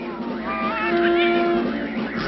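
A cartoon cat lets out a single drawn-out, wavering meow, loud and close with a steady background underneath.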